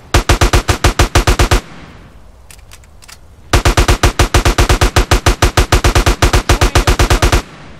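Automatic gunfire in Grand Theft Auto San Andreas, two long loud bursts of rapid evenly spaced shots separated by a short pause with faint single reports, close and dominant.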